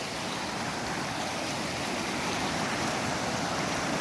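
Stirred-up Kaslo River water rushing, a dense, steady, close broadband roar of churning current with no pauses.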